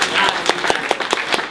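Brief audience clapping at a comics festival held in a bookshop, a scattering of distinct, fairly close hand claps over a short stretch.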